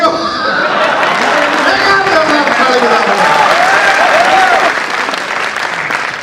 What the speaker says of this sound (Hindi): ताली बजाना मैं सिखा देता हूं तुम्हारे को